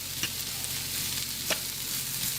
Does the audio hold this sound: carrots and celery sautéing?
yes